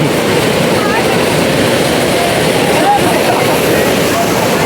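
Fast-flowing water at a waterfall roars in a dense, continuous rush, loud and close, with voices faintly talking beneath the noise.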